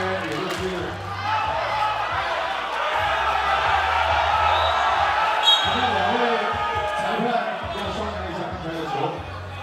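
Arena crowd at a FIBA 3x3 Asia Cup 2018 basketball game roaring steadily throughout, with ball bounces and courtside commentary running over the din.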